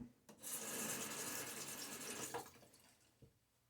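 Running water from a tap as a safety razor and face are rinsed during a shave with a Gillette Tech, a soft, steady splashing hiss that fades out with a few faint knocks at the end.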